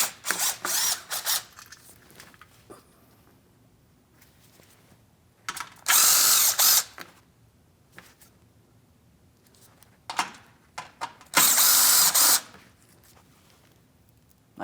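A ratchet wrench works 7mm mounting bolts on the front suspension of a 2016-2025 Chevrolet Malibu during a control arm job, in several loud bursts of rapid clicking separated by quieter pauses.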